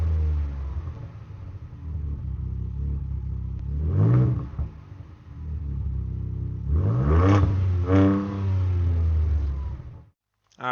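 A stock-exhaust Ford Ranger Raptor engine rumbles at idle, then revs sharply in one short burst and again in a longer double rev, loud and close, before cutting off abruptly.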